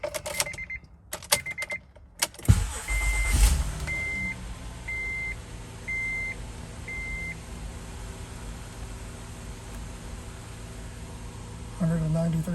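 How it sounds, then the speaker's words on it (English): A 2012 Honda Odyssey, just back together after new VTEC gaskets, starts up: a few clicks and a cranking burst, then a string of five short electronic chimes over a low, steady idle hum, with faint sounds at the end. "Let's give the car a spin."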